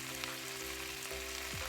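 Steady sizzling of pork frying in a hot pan without oil, a continuous crackling hiss with no talking.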